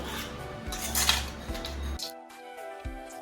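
A pot of boiled pointed gourd is lifted off the stove with several close metallic clanks and scrapes of utensils, then a quieter stretch with one more knock.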